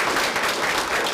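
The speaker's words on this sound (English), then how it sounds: "We can throw a round of applause." Audience applause after a community talk-story session, a steady dense wash of clapping filling the whole short moment with no voices over it.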